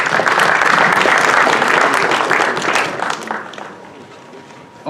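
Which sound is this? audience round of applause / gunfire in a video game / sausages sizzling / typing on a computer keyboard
audience round of applause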